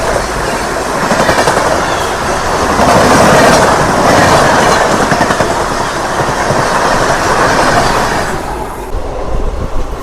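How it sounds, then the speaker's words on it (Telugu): The Alappuzha–Dhanbad express train rushes past at high speed near Vaniyambadi railway station, a loud steady roar with rattling wheel clatter that fades near the end. "ఈ ట్రైన్ స్పీడ్ తట్టుకోవడం మన వల్ల అయితే కాదు కానీ స్పీడ్ అయితే మాత్రం ఒక రేంజ్లో అయితే లాగుతున్నాడు"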